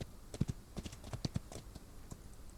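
Horse hooves clop in a loose, quiet rhythm of light taps in the Old West video game Outlaws of the Old West, faint and close with no talking.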